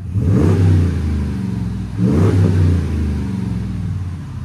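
A deep, throaty truck exhaust with a Flowmaster Signature Series muffler revs twice in quick succession on startup, loud and close, each surge swelling then easing back to a rumbling idle.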